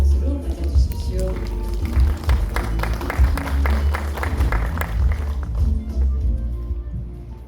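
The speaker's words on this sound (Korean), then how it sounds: "따뜻한 박수로 맞아주십시오" Scattered, moderately close hand claps from a seminar audience greet an SK Shipping executive walking up to the stage, with a low room hum beneath and a voice at the start.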